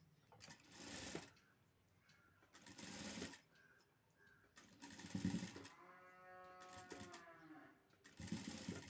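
A sewing machine stitches a thermocol ball neck design in short bursts, each a few seconds long with quiet gaps between, rhythmic mechanical chatter at close range.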